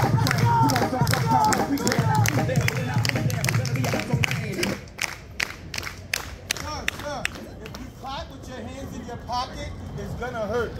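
A street-show crowd in New York City's Central Park claps along at an acrobats' performance, with sharp clap bursts and whoops amid a loud shouting MC and outdoor bustle.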